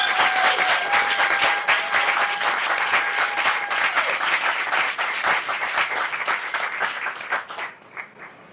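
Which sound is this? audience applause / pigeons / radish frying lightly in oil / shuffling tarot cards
audience applause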